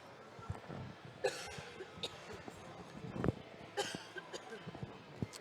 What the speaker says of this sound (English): Pardon me if you can hear me coughing there.